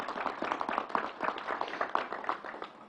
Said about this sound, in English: Let's give the whole team at the State Fair and the National Guard a round of applause.